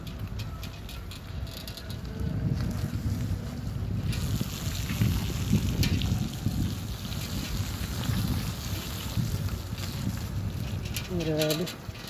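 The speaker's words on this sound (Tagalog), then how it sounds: "Sobrang lakas talaga ng hangin." Strong wind gusting across a farm just after a rainstorm with thunder and lightning, a steady roaring rush that swells and holds loud throughout, with brief faint voice-like sounds near the end.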